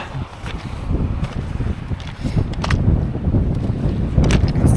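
Blustery wind buffets a ship deck on an Antarctic expedition, a steady low roar with gusty microphone rumble and occasional rustling, continuous and close throughout with no talking.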